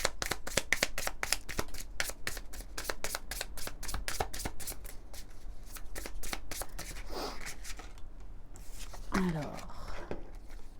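Oracle cards are riffled and shuffled by hand in a quick run of crisp, close flutters, easing into softer sliding and tapping near the end.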